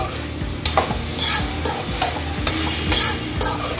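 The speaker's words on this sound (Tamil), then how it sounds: "இந்த மீன் மேக்கர், அதாவது சோயாபீன், அதையும் சேர்த்து நல்லா எல்லாத்தையும் மிக்ஸ் பண்ணிடுவோம்" Vegetables, tomato and soya chunks being stirred and sautéed in a pan for a vegetable gravy, with steady frying sizzle and repeated scraping spoon strokes at an even rhythm, close and fairly loud.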